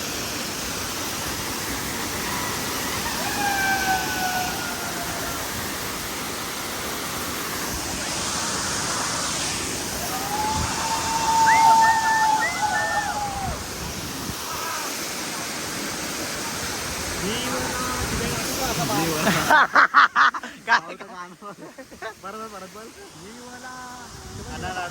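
The Kemburli waterfall rushes as a broad, steady roar at a distance while people talk over it, and heavy wind buffeting on the microphone takes over near the end.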